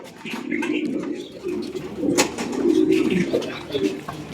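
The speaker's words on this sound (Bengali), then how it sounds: "আরও অনেক কবুতর আছে" Pigeons in a loft, including Danish, American Helmet and American Fantail breeds, cooing near and loud in overlapping, rolling calls that continue throughout with light background rustle.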